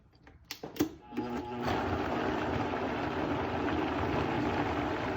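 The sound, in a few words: Vitamix blender blending eggplant dip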